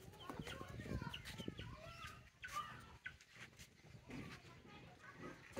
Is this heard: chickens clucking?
yes